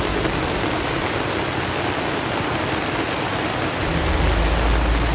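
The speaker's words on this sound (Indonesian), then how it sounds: "Hujan masih deras turun." Heavy rain pours down steadily on congested city streets in Makassar during flooding, a dense continuous hiss with a low rumble that swells slightly toward the end.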